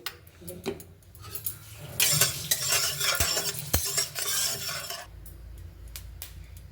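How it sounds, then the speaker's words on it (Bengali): Beans and potatoes frying in hot oil in a karahi, with a spatula scraping and clinking against the pan in quick irregular stirs and a louder sizzling burst in the middle. "দেখুন এবার এটাকে আমি নাড়াচাড়া করতে থাকবো।"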